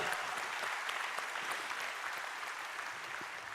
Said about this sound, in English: Round of applause for Riley.